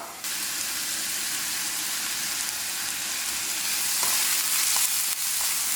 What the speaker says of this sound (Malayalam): ഇതിലേക്ക് നമുക്കൊരു 3-4 തണ്ട് കറിവേപ്പില കൂടി ചേർത്ത് കൊടുക്കാം